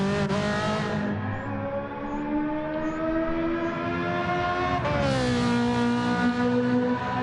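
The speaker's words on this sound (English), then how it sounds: "It's the downshifting that gets me in this car." A racing car engine in Gran Turismo 7 holds a loud, steady harmonic drone, then drops sharply in pitch and climbs again at a downshift, heard alone and close throughout.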